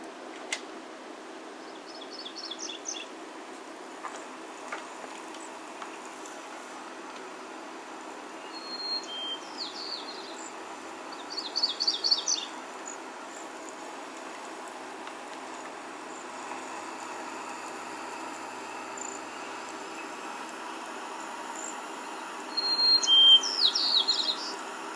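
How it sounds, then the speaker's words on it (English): Several birds calling together outdoors at Two Medicine, with brief chirping bursts scattered over a steady low background hum, fairly faint and distant, no talking. "This is a clip that I got in 2 Medicine of these 3 birds all going kind of at the same time."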